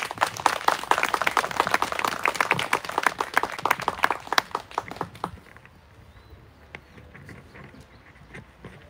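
Audience at a memorial ceremony for a Korean activist claps in a loud, busy burst for about five seconds, then thins to a few scattered, quieter claps before dying away.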